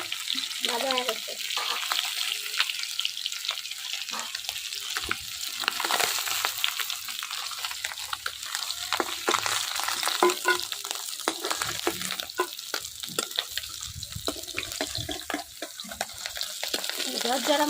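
Fresh paluya tangra fish frying in hot oil in a kadai, with steady broadband sizzling and occasional scraping stirs throughout, loud and close, as faint voices talk beneath it.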